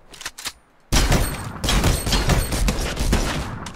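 Shots from the Tactical Assault Rifle in Fortnite, a few faint pops followed by a loud sustained string of rapid, closely spaced rounds.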